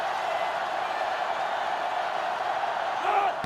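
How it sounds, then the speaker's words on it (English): A college football video game crowd roars steadily in a dense, continuous wash of cheering, loud and unbroken throughout, with a slight swell near the end. "this crowd is going absolutely insane"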